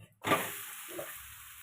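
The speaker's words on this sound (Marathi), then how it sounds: "म्हणून साईडनं तेल सोडायचं आणि वरी ती थोडासा असा हात मारून घ्यायचं" Dhapate flatbread sizzles in oil on a pan, a sudden close sizzle that starts sharply and then settles into a steady frying hiss for a second or so, with no talk.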